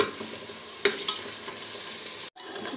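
Onions fry until golden in a pan, giving a steady soft sizzle with a sharp stirring clatter near the start and a brief gap near the end.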